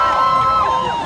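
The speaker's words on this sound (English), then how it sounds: "You're cheering. Don't cheer for that." Audience at a rally cheering and calling out, a steady dense crowd roar with a few voices rising above it, sustained and fairly loud throughout.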